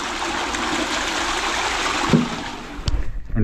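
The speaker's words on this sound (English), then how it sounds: "Toilet paper in, give it a little flush," A toilet with toilet paper in the bowl flushes during a blocked drain test, giving a loud continuous rush of water that swirls, gurgles and tails off near the end.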